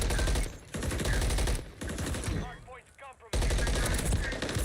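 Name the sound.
gunfire in Warzone video game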